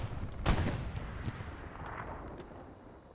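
Booming artillery fire in a military video game: one heavy blast early on, then fainter distant rumbles and thuds rolling under a continuous battlefield din.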